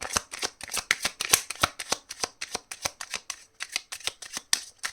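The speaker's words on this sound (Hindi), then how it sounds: "लास्ट शफल है।" Tarot cards being shuffled by hand in a steady run of crisp, rapid riffling flicks, close and fairly loud, with no voices over them.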